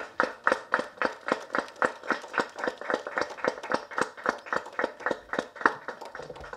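Audience clapping in a steady run of sharp, rhythmic claps at a Tamil film press meet, moderately close and sustained for several seconds with no talk over it.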